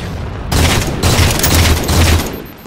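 Gunfire in Halo 4 during a scattershot tournament: loud, dense bursts of rapid shots in two main volleys with a brief pause between, booming and continuous, no talk.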